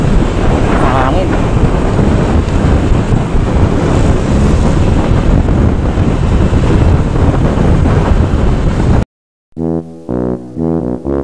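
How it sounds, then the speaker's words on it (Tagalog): Strong wind blasts across the microphone in a constant roaring rush for several seconds, then cuts off and a short musical jingle plays. "Mahangin."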